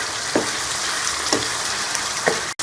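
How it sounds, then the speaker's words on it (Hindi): Turmeric, crushed red chilli and black pepper frying with liver masala in a kadai give a steady close sizzle, broken by three soft scraping stirs and a brief clatter near the end. "अब हम इसमें हल्दी, लाल कुटी हुई मिर्च और काली मिर्च का पाउडर शामिल कर लेंगे और तीनों चीज़ों को भी जो है वो मसाले के साथ अच्छी तरह से भून लेंगे"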